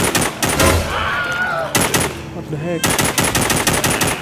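Rapid automatic gunfire rattles in The Walking Zombie 2 video game, loud sustained bursts broken by a short gap, with a startled voice speaking over the shots.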